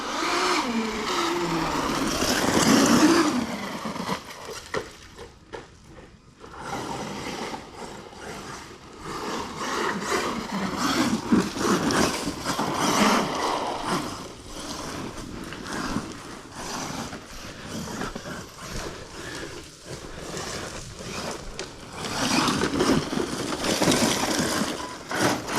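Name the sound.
ARRMA Dirt Rat RC car Spectrum 1250kv motor running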